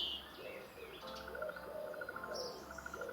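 Birds singing outdoors, soft repeated calls and a faint high trill over a quiet background hum, distant and gentle with no voices.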